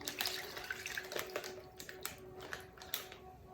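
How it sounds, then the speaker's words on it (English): Steak marinade with teriyaki sauce and salt pours into a bag holding a flank steak, giving a faint, irregular liquid trickle with small splashy ticks, close and quiet, with no voices. "So I'm just going to pour this in."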